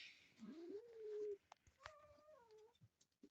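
Cats waiting to be fed meow close by in a quiet setting, with one long drawn-out meow followed by a second, wavering meow that has a clear tonal quality, plus a few faint clicks in between.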